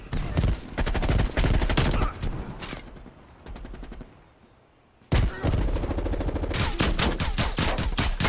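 Bursts of RPD light machine gun fire in the video game Call of Duty Cold War, loud rapid volleys with a short lull midway before sustained firing resumes.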